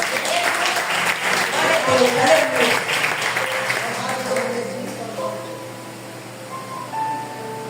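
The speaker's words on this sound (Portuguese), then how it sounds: "Vamos aplaudir o nosso Deus" Church congregation applauding at the close of an evangelical Sunday service, a broad wash of clapping that swells in the first few seconds and then slowly thins and fades, with some voices mixed in.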